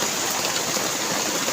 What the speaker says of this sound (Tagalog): Parang naulan dito mga sabi.